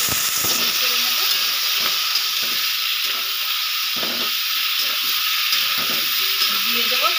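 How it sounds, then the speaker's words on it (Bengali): Vegetables and slit green chillies sizzle in a pan after a spice tempering for a light, low-oil fish curry, giving a steady, loud frying hiss throughout with occasional soft stirring clinks. "আমি একটু ভেজে নেব। দিয়ে দেবো সবজিগুলো।"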